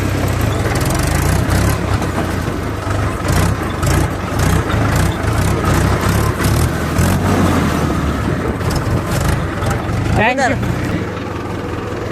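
A tractor engine runs steadily with a heavy low rumble throughout, loud and close, with voices talking over it and a brief rising rev near the end.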